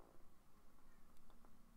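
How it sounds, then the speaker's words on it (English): A female house cat yowls in the background of a quiet indoor room, a fairly faint, drawn-out cry that rises briefly near the end over low room noise. "Sorry if you hear my cat yowling in the background."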